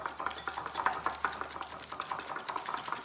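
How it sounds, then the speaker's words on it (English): Caesar salad dressing with crushed garlic paste is whisked in a bowl, a quick run of repeated metallic clinks and scrapes in a steady rhythm, close and fairly quiet with no voices. "Give it a really good mix."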